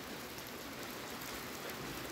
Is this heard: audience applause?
no